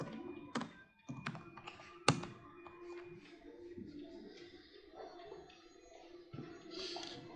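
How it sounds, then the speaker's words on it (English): A computer keyboard is typed on at a desk, with soft scattered key taps and a few louder thunks spread unevenly over several seconds, faint against quiet room tone. "I'm going to just type ng new and the app name hello world."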